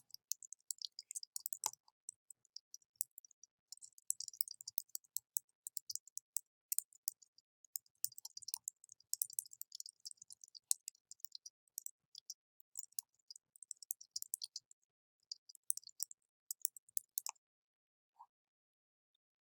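Rapid, light keyboard clicks come in quick irregular bursts as a quiz question is typed on a computer, close and fairly quiet with short pauses between runs of keystrokes.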